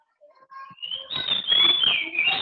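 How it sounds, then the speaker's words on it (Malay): A pet bird calls with a string of whistled notes, rising into a bright, sustained chirping trill that grows louder and stays fairly close. "Ada bunyi burung kan, bunyi burung siapa tu?"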